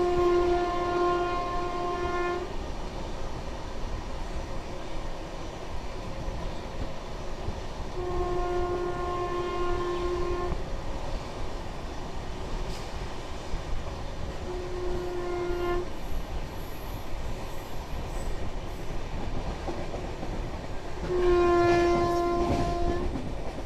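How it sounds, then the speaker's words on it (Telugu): A Duronto Express train running at speed near Naidupeta, a continuous rumbling roar of wheels on track with several long, tonal horn blasts repeated at intervals, no talk. "మన ట్రైన్ అయితే నాయుడుపేటని అయితే క్రాస్ చేస్తుంది."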